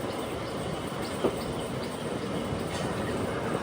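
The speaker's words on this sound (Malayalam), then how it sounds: "ട്രെയിൻ ഇപ്പോൾ മൺട്രോത്തുരുത്ത് സ്റ്റേഷനിലേക്ക് ഇതാ എത്തുകയാണ്." Passenger train pulling into Munroe Island station, a steady broadband rumble of rolling stock held at an even level throughout, with one brief knock partway through and no voices.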